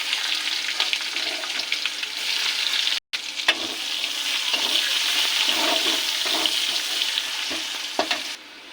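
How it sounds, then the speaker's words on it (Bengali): Chopped onion fries in oil in a wok with bay leaves and cumin, a dense, steady hissing crackle broken by a brief silent cut, with occasional stirring scrapes and no talking. "পেঁয়াজটা ভাজা হয়ে গেছে"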